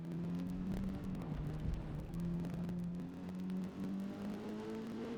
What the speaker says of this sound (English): Sounds like it's got a Wurlitzer organ for an engine.